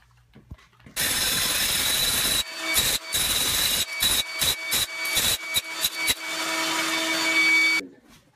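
A Makita power tool fitted with a giant wide bit grinds and scrapes thin-set mortar off a floor after tile removal, running loud and close in long bursts broken by repeated short stops and restarts, with no talk.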